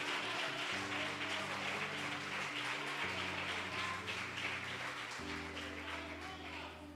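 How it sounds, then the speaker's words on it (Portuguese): A church congregation applauds together, a steady wash of clapping under sustained organ or keyboard chords, with the crowd noise holding fairly even and easing slightly toward the end. "Pode aplaudir, se é para Jesus você pode aplaudir."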